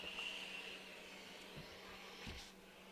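A steam iron hisses steadily and loudly while pressing cotton quilt strips for a pixelated Halloween quilt block, a continuous broadband rush with a couple of soft thumps from the iron setting down.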